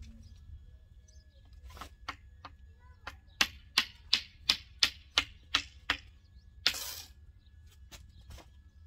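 Keys tapped on a keyboard indoors: a steady run of about a dozen crisp, close clicks at an even pace, a few scattered taps before and after, over a quiet room hum.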